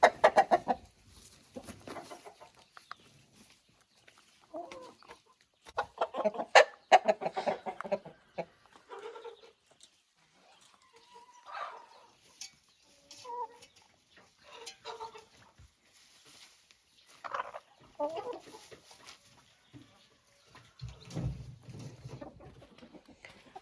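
Several hens in a farmyard coop cluck intermittently as they peck at freshly cut spring grass, soft irregular calls close by with quiet scratching between.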